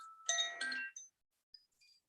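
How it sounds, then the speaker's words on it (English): Oshi chime bells of the four elements ring out in a few bright, overlapping tones that linger and fade, followed by a couple of softer, fainter strikes. "Oshi bells of the 4 elements."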